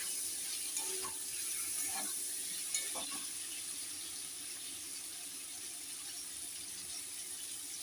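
Turmeric powder being stirred into potatoes in a pan: a faint, steady sizzle with a few soft scraping strokes early on, quiet and without talk.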